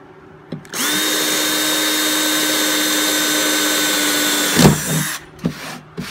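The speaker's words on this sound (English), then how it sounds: "Now we're going to take and drill us a starter hole." A power drill bores a starter hole into a wooden cornhole board, whining loudly and steadily for about four seconds, then winding down amid a few handling clunks.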